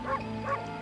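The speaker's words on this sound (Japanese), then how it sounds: "ワンワン言えるよ。" Two short, soft barks from a dog in the video game Okami, a pair of evenly spaced yips at low volume.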